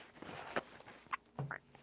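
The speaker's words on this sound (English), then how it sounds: "I gotta blow my nose" A few short, breathy nasal honks from someone blowing their nose, sounding close and fairly quiet, with small gaps between bursts and no talking.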